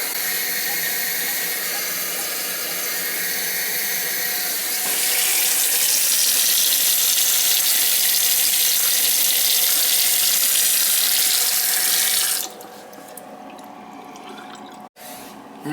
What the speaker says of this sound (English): I'm able to run it a bit and see if any water accumulates on the floor here